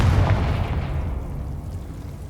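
A Confringo fire spell explodes in the Hogwarts Legacy video game, one deep booming blast at the start that rumbles and fades over about two seconds.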